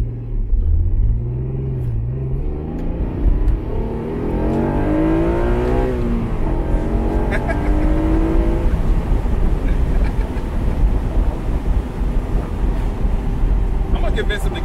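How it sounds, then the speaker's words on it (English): Stock-exhaust Acura NSX engine revving with VTEC kicking in, a rising and falling engine note sweeping up in pitch over the first several seconds, close and loud, then settling into a steady drone with someone talking over it. "it does sound pretty cool. Has a nice like mean grunt to it, and you can hear when the VTEC kicks in."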